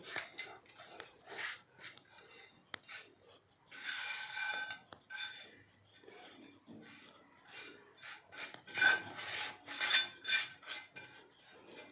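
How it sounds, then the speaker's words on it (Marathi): Hot jaggery mixture with edible gum scraped from a pan and poured into a greased tray, heard as close, irregular scraping and rasping bursts of utensil on metal throughout, with no talking. "आता हे मिश्रण सगळं आपल्याला ह्या ट्रेमध्ये ओतून घ्यायचं आहे"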